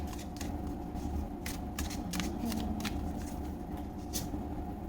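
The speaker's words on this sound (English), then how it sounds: "Let's get 3 cards out." Tarot cards drawn one after another from a 78-card deck, giving several short papery slides and snaps over a steady low room hum, close and fairly quiet with no talking.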